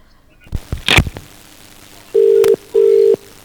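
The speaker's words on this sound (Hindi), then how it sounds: "उनको फोन लगाते हैं, उनसे भी सवाल जवाब करेंगे" Telephone call being placed for a live phone-in with a politician: a brief burst of dialing sounds followed by two long, loud, steady ringback tones separated by a short gap, with no talk.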